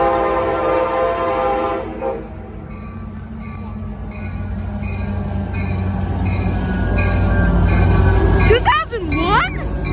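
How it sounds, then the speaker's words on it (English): A Capitol Corridor train 551, with an F59PHI locomotive and cab car 8311, rumbles loudly past close by, and sharp horn blasts sound near the end. "Capital Corridor train"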